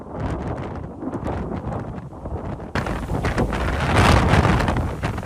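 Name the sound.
Hurricane Melissa winds in Jamaica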